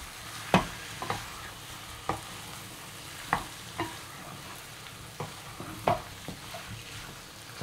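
Desi chicken curry in Bengali jhol style sizzles in a pan while being stirred, with soft frying hiss and about a dozen sharp spatula scrapes and clinks at irregular intervals, close by.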